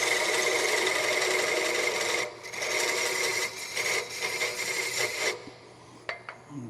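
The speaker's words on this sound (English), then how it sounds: "I'm just going to take the parting tool or the skew chisel, come in here, make a little rim here." A parting tool or skew chisel cuts into scrap wood spinning on a lathe, a loud continuous scraping whir that breaks into shorter bursts, then gives way to a few sharp clicks and near silence.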